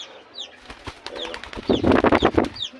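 Newly acquired pet pigeons coo close by, soft repeated throaty calls building into a louder run of rhythmic coos near the end, with no voices over them.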